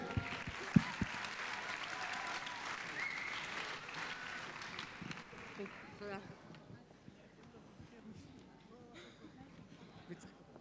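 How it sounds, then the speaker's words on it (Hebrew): An audience at a graduation show claps steadily for several seconds before the applause thins and fades, with some voices mixed in near the end. "כפיים!"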